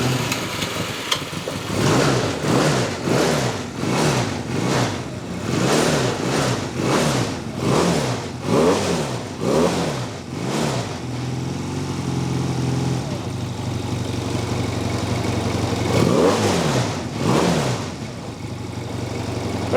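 Honda CM250 motorcycle engine cranking in repeated rhythmic starter pulses, then catching and running at a steady idle, followed by a few more cranking bursts, close and fairly loud.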